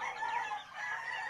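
Chickens, likely hens kept penned on a farm, cluck and call continuously at close range, with steady busy chatter throughout and no talk over it.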